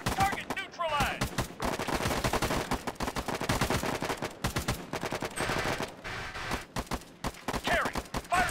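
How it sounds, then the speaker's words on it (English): Rapid automatic machine-gun fire in the Arma 3 military shooter game, dense continuous bursts of loud gunfire filling the whole stretch with only brief gaps, close and dominant. "Engage that machine gunner!"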